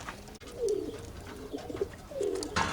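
A small flyer cock pigeon coos in a few soft, low, rolling phrases, fairly close and alone, with brief pauses between calls.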